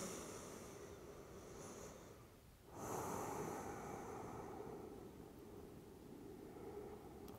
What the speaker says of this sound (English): Let's take two breaths here together.